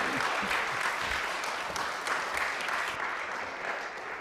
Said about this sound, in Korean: 다시 한번 장로님 박수합시다.